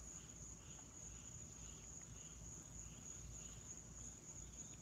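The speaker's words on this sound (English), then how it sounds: "I hear frogs and shit singing." Frogs or insects singing outdoors at night, a steady high-pitched trill with a faint pulsing chorus beneath it, continuous and distant with no voices.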